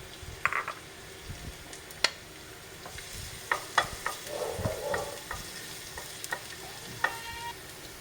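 Garlic sizzles in a hot frying pan while chicken adobo with pineapple is cooked, a steady quiet crackle broken by sharp clinks and scrapes of stirring, close up with no talk.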